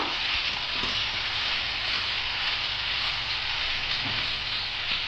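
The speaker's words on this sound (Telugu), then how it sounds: "ఇందాక ఉడికించుకున్న చికెన్ ముక్కలు ఇందులో వేద్దాం వీటిని కొంచెం దూరగా వేయించుదాం" Boiled chicken pieces fry in hot oil in a pan for a village-style chicken fry, a steady, dense sizzling hiss with faint crackles, continuous and fairly close.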